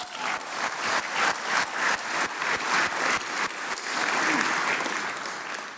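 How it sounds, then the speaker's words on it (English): A large audience at a Nebraska celebrity sports awards night breaks into loud, sustained applause, a dense wash of many hands clapping steadily for several seconds. "Let's give him a round of applause."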